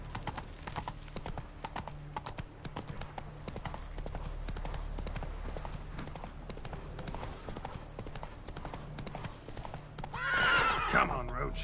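Roach, a horse in The Witcher 3, gallops with a steady rhythmic clip-clop of hooves, and a whinny near the end; someone speaks briefly over the hoofbeats.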